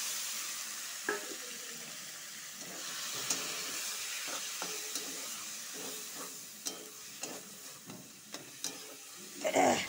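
Chopped tomato, green chili, garlic and onion fry together in hot oil with a steady sizzling hiss, broken by frequent scraping stirs of a spatula, fairly close, with no talking.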